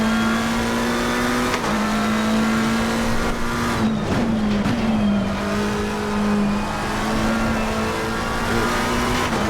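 McLaren 720S GT3 Evo race car from Assetto Corsa Competizione at full speed, its engine holding a steady high drone with a shift dip and brief rise midway, loud and close, alone without talk.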